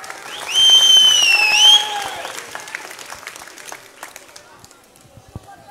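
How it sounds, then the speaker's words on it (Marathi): A large crowd at a political rally in Jat claps in a dense burst that swells and then thins into scattered claps, with voices and a tonal sound over the start. "त्यांच्यासाठी जोरदार टाळ्या वाजवा."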